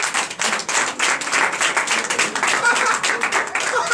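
Church congregation clapping and cheering in praise of Jesus during a Sunday service in Benin, a dense sustained burst of applause with voices mixed in throughout.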